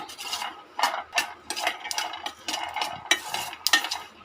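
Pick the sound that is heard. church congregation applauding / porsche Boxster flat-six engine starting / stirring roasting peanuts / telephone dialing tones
stirring roasting peanuts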